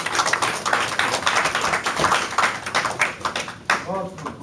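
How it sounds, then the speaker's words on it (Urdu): Applause breaks out at an Urdu literary gathering in New York, uneven clapping from a small audience that rises and falls in bursts, with a voice speaking near the end. "میں آپ کی بھرپور تالیوں میں ڈاکٹر شفیق۔"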